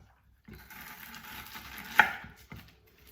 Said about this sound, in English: when chopping it up, especially with a big sharp knife like this